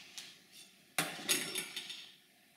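A knife cuts a papaya in half on a board: one sharp chop followed by several lighter knocks and scrapes, close and fairly quiet.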